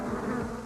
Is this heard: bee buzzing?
yes